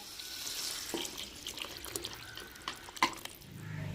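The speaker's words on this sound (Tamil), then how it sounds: "நம்ம கரைச்சி வச்ச புளியும் சேர்த்துக்கிறோங்க." Dissolved tamarind water is poured into a brinjal curry of eggplant, tomato and onion sautéed in oil, giving a steady close liquid pour and splash with a few faint clinks, no voices.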